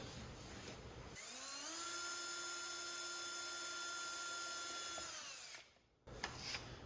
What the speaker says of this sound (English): we're just going to chase that hole with a 3/4 inch bit, or like in our case, a step bit